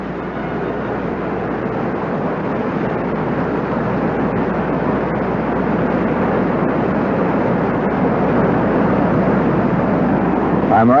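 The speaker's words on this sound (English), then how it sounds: "The sound you hear is the sound of the water rushing by over rapids," Steady, loud broadband rush of the Mendenhall River pouring over rapids in Alaska, heard close and continuous, swelling slightly toward the end, with no talking.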